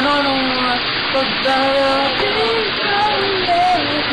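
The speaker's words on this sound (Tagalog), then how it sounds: "kaya malakas na ulan eh" Heavy rain pours as a steady broadband hiss throughout, close and loud, with a person's sustained singing or humming tones running over it.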